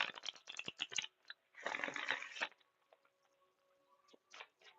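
Tarot cards being shuffled close by in quick riffling bursts, with papery flicks and taps between them and a faint hum underneath.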